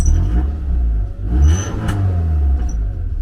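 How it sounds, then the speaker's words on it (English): Car engine idling loudly up close, a steady low rumble with a high whistle from a hole in the exhaust cutting through in short bursts. "But there's a whistle in the exhaust because of a hole"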